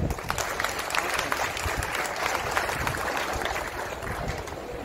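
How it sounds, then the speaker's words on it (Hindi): A crowd at a pigeon-flying association gathering in Moradabad applauds steadily, a continuous wash of many hands clapping close by that holds at even loudness throughout. "मेरी बात पर तालियां बजा दें"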